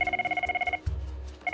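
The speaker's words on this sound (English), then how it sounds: "But now, the scramble phone is ringing." Scramble telephone at an air ambulance base ringing loudly in fast trilling bursts, cutting off briefly with a low thump before the ring resumes.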